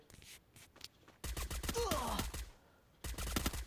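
Gunfire from the Free Fire video game, with loud bursts of rapid shots in two clusters separated by a quieter stretch holding faint clicks and scrapes.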